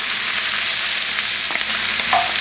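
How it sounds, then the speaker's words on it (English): Onions sautéing in a hot pan, a loud continuous close-up sizzle with a few stirring scrapes, no voices. "so now we're going to saute some onions"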